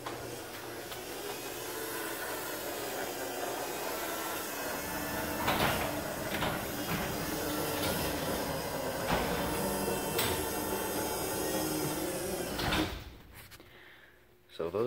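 A LiftMaster 8550 garage door opener closing a door: a steady mechanical drone with rattling and a few clunks runs for about twelve seconds, then cuts off abruptly, leaving near silence.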